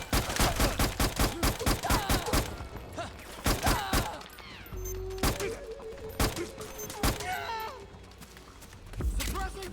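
Bursts of gunfire in Metal Gear Solid 4: Guns of the Patriots, loud rapid volleys at first, then scattered single shots and short clusters, close and punchy, with brief voices in between.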